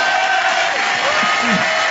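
A loud crowd at a children's choir concert roars with cheering and shouting, a dense continuous wall of voices with whoops rising above it.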